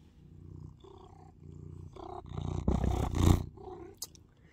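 A domestic cat vocalizes early in the morning indoors, with low purring rumbles under a few soft meows that swell into a louder, longer cry near the middle, followed by a brief high sound.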